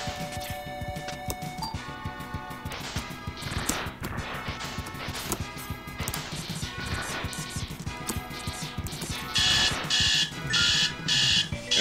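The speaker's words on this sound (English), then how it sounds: "And there's my alarm." An alarm goes off in a room over Mega Man X2 game audio: busy game music and sound effects run throughout, with a loud repeating electronic beeping alarm in regular bursts near the end.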